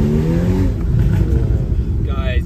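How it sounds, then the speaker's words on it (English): Porsche Boxster S 981 with the optional sports exhaust engaged, accelerating hard under a loud, steady engine roar from inside the car, with crackling pops toward the end and a voice talking over it. "you can already hear the pops and bangs"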